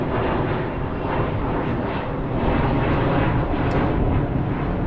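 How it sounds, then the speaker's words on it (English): A steady, heavy low roar of aircraft passing overhead, broad and continuous throughout, with no voices. "the noise from planes"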